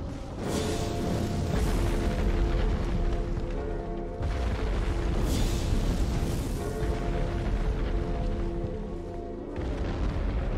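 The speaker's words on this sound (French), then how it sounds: "Là tu vois littéralement une petite, une petite bombe là" Small bomb blasts in the Elden Ring video game, several muffled booms and bursts rising and falling over a steady, loud rumbling game soundscape, with no voices.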